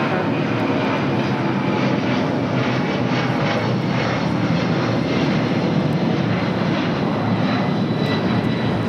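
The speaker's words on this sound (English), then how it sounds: "This is Delta Airlines 392 taking off to Washington Reagan National on a 757-200" A Delta Boeing 757-200 jet roars steadily on takeoff from LAX, a loud, dense and unbroken engine rush that stays constant from start to finish.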